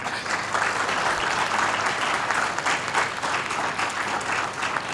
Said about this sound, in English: So we can have a round of applause for the final.